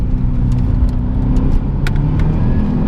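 Cadillac CTS-V V2 engine pulling hard out of a corner, a steady loud low engine drone with a sustained throaty growl throughout, heard from inside the car.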